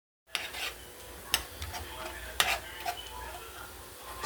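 Chili cooks in a pan on a stove set to medium while a utensil stirs it, giving a steady sizzle broken by scraping strokes and a few sharp clinks against the pan.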